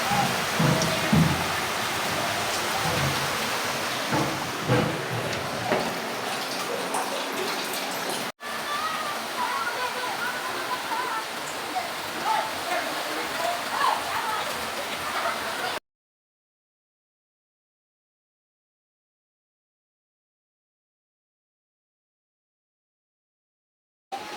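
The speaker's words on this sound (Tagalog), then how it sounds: "Lalo pang lumakas ng ulan." Heavy typhoon rain in Batangas, Philippines, pours down in a steady, dense hiss for about fifteen seconds, then cuts off abruptly into silence.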